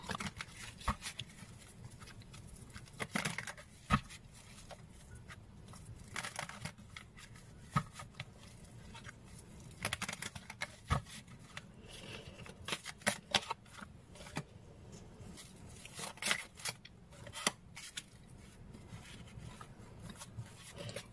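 Tarot cards being shuffled by hand close up, with soft rustling and sharp riffling snaps repeating irregularly for about twenty seconds.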